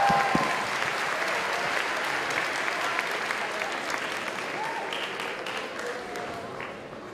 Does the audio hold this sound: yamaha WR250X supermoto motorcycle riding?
no